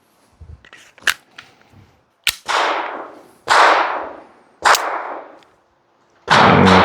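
Glock pistol fitted with an Advantage Arms .22LR conversion kit and a 25-round Pro Mag, firing several sharp, loud single shots at irregular spacing, each with a ringing decay, plus a few smaller clicks and handling sounds, no talking.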